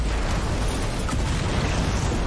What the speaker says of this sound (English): And then the explosion.